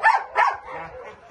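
A male dog gives two short barks up close, then a softer trailing whine-like tail, moderately loud with no talk over it.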